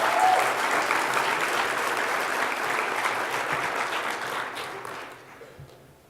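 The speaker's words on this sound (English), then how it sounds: "Let's give Alex one more round of applause." A large audience at the 2013 National Conference for Media Reform gives a full round of applause, loud and dense at first, then gradually thinning and fading out over the last second.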